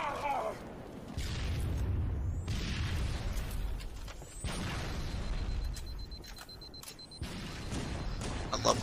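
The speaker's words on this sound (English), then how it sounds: "Can they stop grenade spamming" Repeated grenade explosions in the video game Halo, several heavy booming bursts rolling over one another in quick succession, loud and close, with gunfire and game noise around them.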